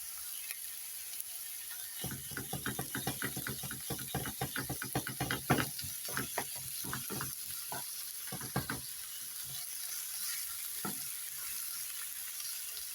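Onions, meat and eggplant sizzle in a pan with very little oil, a steady crackling fry broken by bursts of rapid scraping stir strokes, close and moderately loud, with no talking.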